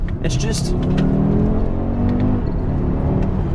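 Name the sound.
Audi RSQ3 five-cylinder engine with standard exhaust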